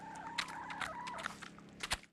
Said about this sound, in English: We've got hens for eggs, and we raise chickens for meat.